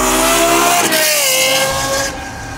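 A Lexus LFA's 10-cylinder engine with ten individual throttles, loud and close, revving hard toward its 9000 rpm redline with a rising, rasping wail that drops off near the end.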